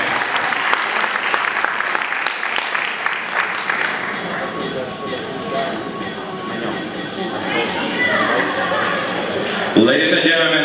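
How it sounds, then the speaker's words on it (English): Loud, sustained audience applause and cheering at a bodybuilding championship, a dense wash of clapping with crowd voices that swells toward the end. "Ladies and gentlemen, thank you for all the applause."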